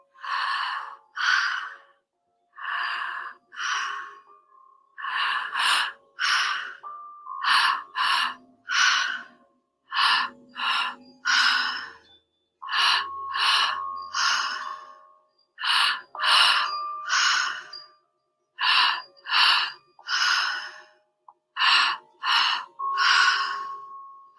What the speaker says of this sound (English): Slacking the jaw off completely. And just breathing in and out.